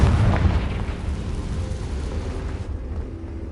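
A Confringo blasting spell bursts in Hogwarts Legacy, a loud booming explosion at the start that rumbles and slowly fades over a few seconds.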